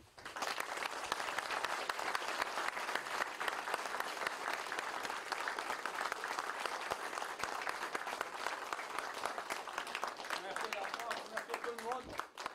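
Sustained applause from the audience at a Legion of Honour award ceremony in Crouy, France, a dense steady wash of many hands clapping for over twelve seconds, fairly faint and distant in the room.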